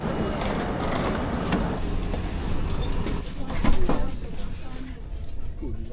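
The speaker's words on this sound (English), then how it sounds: "this train here is really just your standard, older but not that old, IC train" An older intercity train runs steadily in Poland with a low rumbling drone and occasional clicks and rattles, heard from inside, while a voice speaks faintly underneath.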